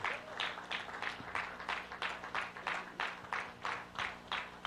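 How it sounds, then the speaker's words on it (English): Conference audience clapping in steady rhythmic unison, with regular bursts about three per second that carry on evenly throughout at moderate loudness in a hall. "Can you please keep the applause rolling?"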